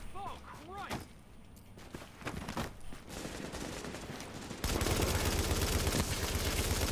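Rapid automatic gunfire in The Division on Xbox One X, with bursts and sharp cracks that build into a dense, continuous fusillade, while players talk over it.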